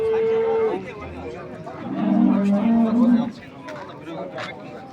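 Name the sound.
cattle at the Kirovka livestock market, Talas region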